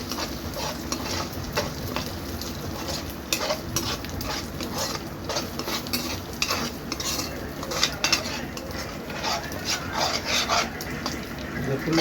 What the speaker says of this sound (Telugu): ఇప్పుడు చక్కగా మనము ఈ ఎగ్ అంతా కలుపుకునేలాగా చూడండి, మొత్తం కలుపుకోవాలి